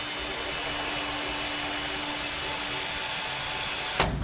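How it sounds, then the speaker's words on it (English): A drill boring a hole with a dull bit in a 1974 Dodge D100 pickup, a loud continuous whirring grind held steadily up close, ending with a sudden sharp break in the sound. "I think we'll take and drill that hole there now."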